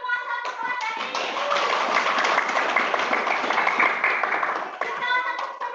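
A class of children claps together over a Zoom call, a steady, fairly close patter of many hands lasting several seconds, with voices heard at the start and end.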